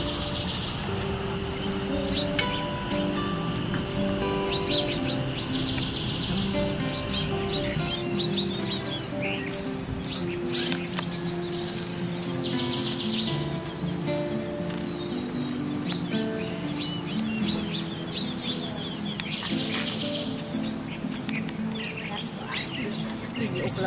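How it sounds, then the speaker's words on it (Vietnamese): Sparrows chirp and tweet continuously after being released at a pagoda in Hue, with dense overlapping bird calls close by over a soft background hum and faint rustling, and no talking. "để đem lại sự sống cho những chú chim sẻ bé nhỏ đáng yêu trở về với sự sống, trở về với thiên nhiên hoang dã"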